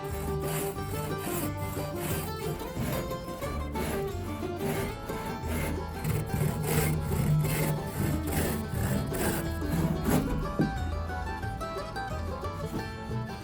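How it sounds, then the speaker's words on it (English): Wood being cut to trim excess from diagonal braces on model railroad benchwork, a continuous rasping, rubbing saw stroke close by that runs steadily and then eases off near the end. "then cut off the excess from the diagonal braces"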